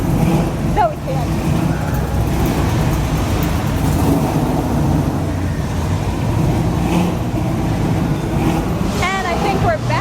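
Cars at a South Florida car show roll past with engines humming and occasional revs, a loud continuous motor drone close by while people chat nearby.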